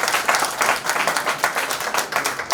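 An audience claps together in a lively burst of applause, many hands beating in a slightly pulsing rhythm that stays close and fairly loud throughout.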